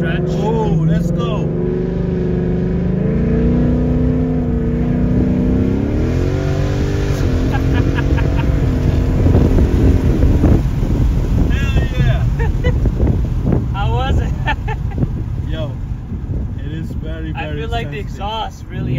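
An S550 Mustang GT with a Corsa Extreme exhaust revs and accelerates hard, its engine note climbing loudly and close with wind buffeting, as people talk and react over it.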